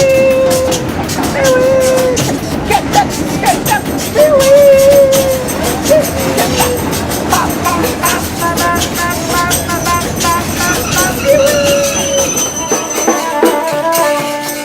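A train in northern Brazil rumbles and clatters along with metallic squeals, while a crowd of voices chatters and talks throughout.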